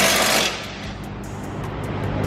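A cutting tool works through a car exhaust pipe near the muffler weld during a mid-pipe install, opening with a brief, loud, harsh burst that settles into a steady, gritty grinding drone with faint regular ticks.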